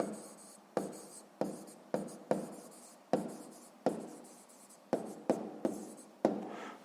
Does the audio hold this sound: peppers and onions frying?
no